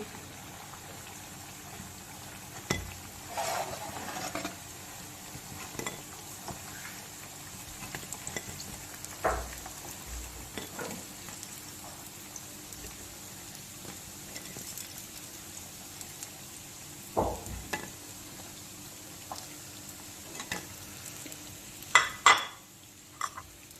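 Low, steady frying hiss of Bengali pithe in oil, with scattered scrapes and taps of a utensil turning them in a pan, a few sharper clatters near the end.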